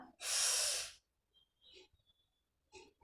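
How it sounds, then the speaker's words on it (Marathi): One slow, deep breath drawn in loudly and close during a guided meditation, followed by quieter breathy exhalations and soft pauses. "सावकाश एक दीर्घ श्वास घ्या."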